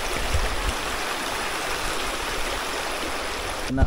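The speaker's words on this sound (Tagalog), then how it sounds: "Tingnan mo naman kung ano kalakas, oh. Naglililo dun, oh. Iniikot talaga yung tubig, oh." A strong, swirling river current in the Sierra Madre rushes loudly and steadily, a dense broadband roar of churning water that carries on alone with no voices.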